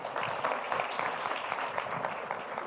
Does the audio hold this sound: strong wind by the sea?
no